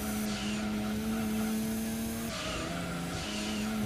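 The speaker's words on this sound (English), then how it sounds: "The sound of that turbo kicking in." Race car engine in Gran Turismo 2 with its turbo spooling up, a loud sustained whine that climbs steadily, drops briefly as the gear changes, then rises again.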